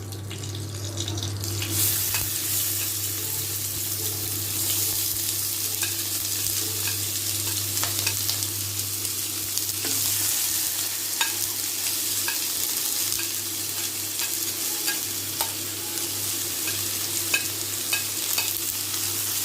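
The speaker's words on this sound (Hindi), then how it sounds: "इसे हल्का सा तल ले रहे हैं।" Chopped chillies, onion, capsicum, carrot and coriander leaves fry in a pan with little oil, giving a steady close sizzle with occasional stirring scrapes throughout, no voices.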